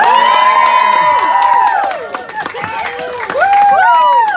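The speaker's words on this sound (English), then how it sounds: "Give a big round of applause." A crowd at an improv show claps and cheers loudly, with whoops and shouts over the sustained applause.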